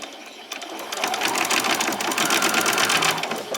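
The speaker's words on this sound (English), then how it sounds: "just come along and stitch across the top. I'm going to do some back stitches" A sewing machine runs steadily, stitching across the top of a folded fabric hairband and back-stitching, its motor whirring in a fast continuous rhythm at close range with no talking.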